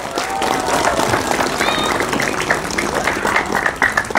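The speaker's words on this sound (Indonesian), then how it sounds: "Tepuk tangan untuk orang Madura." An audience applauds steadily throughout, a dense wash of many hands clapping at close range with crowd noise mixed in, rising slightly toward the end, during a talk about the Madurese people.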